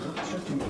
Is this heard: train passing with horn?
no